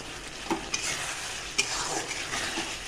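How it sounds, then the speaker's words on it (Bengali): Fish curry spice paste of turmeric, salt and Kashmiri red chili being stir-fried in hot oil for katla macher jhol, a continuous sizzle broken by a few sharp spatula knocks against the pan. "এবার ভালো করে মশলাটাকে আমি কষিয়ে নেব।"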